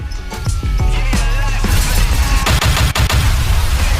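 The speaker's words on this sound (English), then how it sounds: "Gunshot in your cranium" A burst of rapid gunfire sound effect cracks loudly over a dense, busy background on a radio show, the shots clustering toward the end.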